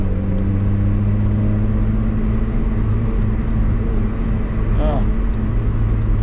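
A car engine idles unevenly after an idle air control valve replacement, with the air conditioning switched on; a steady low hum holds throughout with slight wavering, close and loud, while people talk over it.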